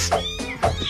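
A kitten meows twice in a beer advertisement for Michelob Golden Light, giving two short, clear mewing calls close to the listener, with no voices.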